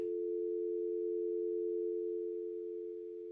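A telephone dial tone plays as a steady, continuous hum, clear and unbroken, tapering slightly at the end with no talk over it.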